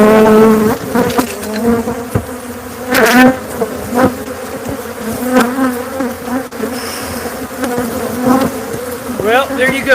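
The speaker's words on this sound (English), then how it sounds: "They're just honeybees." Honeybees swarming around an exposed comb, loud close buzzing with individual bees passing near and wings droning in overlapping waves, no talking.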